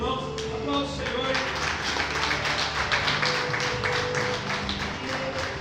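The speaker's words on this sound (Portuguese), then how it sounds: "Aplauda o Senhor" Church congregation applauding during a family worship service, sustained rapid clapping from many hands that continues evenly throughout.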